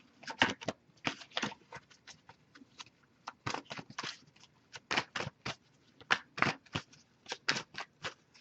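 A tarot deck riffled and shuffled repeatedly in quick bursts, each flurry of crisp fluttering snaps separated by short pauses, close and clear with no talking.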